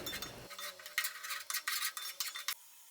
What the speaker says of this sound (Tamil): பூண்டு பேஸ்ட்டு போட்டு வதக்கிடுவோம் முதல்ல. அது கூட இஞ்சி பேஸ்ட்டு, இது கூட வரமிளகா பேஸ்ட், இது போட்டு நல்லா வதக்குங்க